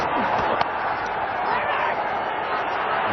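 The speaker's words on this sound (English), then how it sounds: "crowd's erupted again" A packed cricket stadium crowd at an India versus Pakistan match roars in a steady, dense wash of cheering, loud and continuous throughout.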